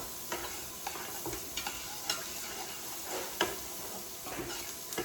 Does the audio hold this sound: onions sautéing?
yes